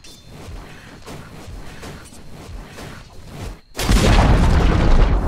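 In Dota 2, a tower takes a run of repeated thudding hits with whooshes, then a sudden loud crash and rumbling roar as it collapses and is destroyed, close and dominant with no talk.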